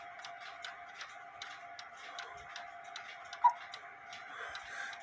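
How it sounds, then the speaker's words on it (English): A repaired quarter-hour cuckoo clock ticks steadily in a quiet room, an even run of crisp, close mechanical ticks with a faint tonal hum beneath and no voices. "It is ticking away."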